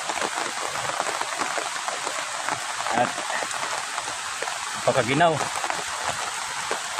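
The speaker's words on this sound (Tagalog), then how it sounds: "Sobrang ulan dito" Heavy rain pours down as a loud, dense hiss that never lets up, with someone speaking over it.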